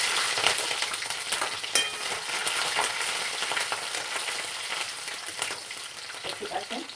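Chopped garlic fries in oil with a constant soft crackle and spitting. Small pops flare up now and then. The sound is close but fairly quiet, and no voices are heard.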